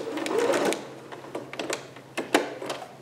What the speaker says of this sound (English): Give my machine a little bit of support with my fingers there.